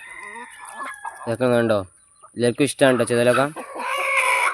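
Chickens cluck loudly nearby while pecking at termites scattered in a yard, with a few sharp bursts between stretches of a person talking.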